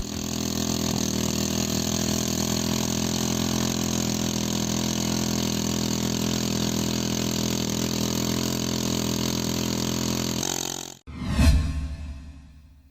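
A homemade tractor built from a used motorcycle engine runs with a steady, loud droning engine note for about eleven seconds, then cuts off abruptly, followed by a brief whooshing burst.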